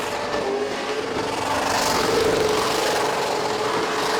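Race car engine held at full throttle at very high RPM, a continuous rough roar that swells slightly louder partway through without letting off.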